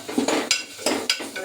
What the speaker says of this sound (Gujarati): હવે હલાવી લઈશું.